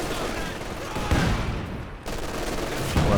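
Dense machine gun fire and a barrage of explosions in the Company of Heroes 2 war strategy game, with sustained bursts and several heavier impacts. Excited commentary runs over the gunfire.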